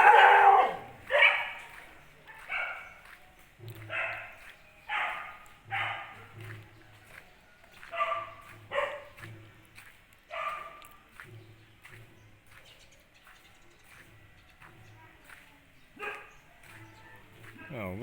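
Several dogs bark, yip and whimper in a back alley of Siem Reap, Cambodia, giving short irregular bursts at close to moderate distance, with someone talking now and then among them.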